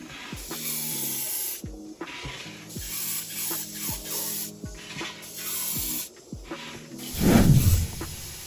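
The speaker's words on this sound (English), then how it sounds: "Airbrushing light orange on the mask, and mostly important between green and red, to make more smooth gradient." An airbrush hisses in repeated bursts as light orange paint goes onto a latex mask, the sprays starting and stopping over a low mechanical drone, with a louder rushing blast near the end.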